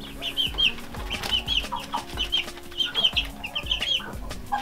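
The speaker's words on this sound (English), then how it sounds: "Look at these wee chickies." Young chicks in a brooder house, including Araucana, Light Sussex, Silkie and Barnevelder breeds, peeping busily and repeatedly at close range, with soft thumps and scratching underneath.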